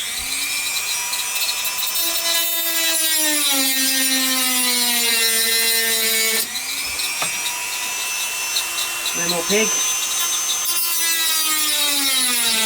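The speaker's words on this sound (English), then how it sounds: "These are the pegs that I can't use, so I'm going to cut them off." A loud, steady high-pitched drill whine with shifting pitch cuts continuously through plastic pegs on a figure body, with a brief voice speaking partway through.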